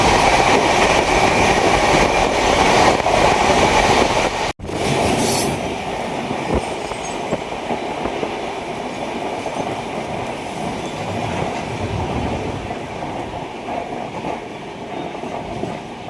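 Heard from inside a fast-moving passenger train near Vijayawada, a loud continuous rumble of wheels clattering over rails, with a brief sharp drop in the noise partway through before the roar resumes.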